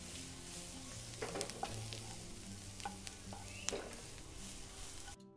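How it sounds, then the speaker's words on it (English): Butter melts and sizzles in a very hot pan while menemen is being made, a steady close frying hiss broken by a few sharp clinks and scrapes of a utensil against the pan. "Now butter goes in. Because it's too hot already, it's gonna melt it"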